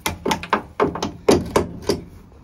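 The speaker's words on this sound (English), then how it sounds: "Pop that pin out." A door hinge pin on a TD42 GQ Patrol being driven out with a hammer: about eight sharp metallic strikes in an irregular rhythm, close and fairly loud, with nothing else heard.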